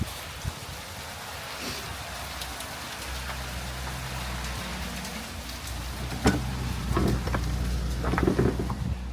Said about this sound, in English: it's actually hailing right now